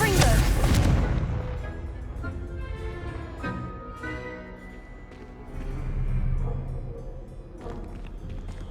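Confringo blast spell in Hogwarts Legacy on PS5 lands as a loud explosive burst at the start, followed by a ringing, decaying tail and softer magical tones, with a voice speaking briefly.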